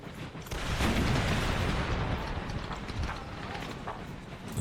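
Massed battlefield din from the strategy video game Empire: Total War, troops firing on an artillery battery, a dense rumbling wash of gunfire with scattered sharp reports, steady and loud throughout.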